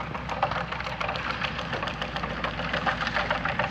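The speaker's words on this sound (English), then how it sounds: "I can hear a rock in there." A rock caught in the rotors of a tractor-drawn cultivator on farm soil knocks and rattles amid the loud, steady mechanical roar of the working machine, with irregular clattering throughout.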